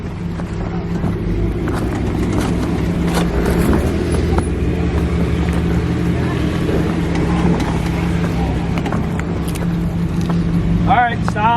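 Jeep crawling over a rock slab on the Daniel Trail at Uwharrie National Forest, its engine a steady low rumble throughout, with tire and drivetrain noise and a spotter talking nearby.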